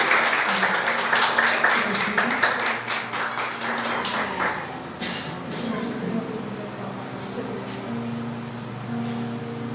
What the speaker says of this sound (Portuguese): Aplauda o Senhor pelas cadeiras.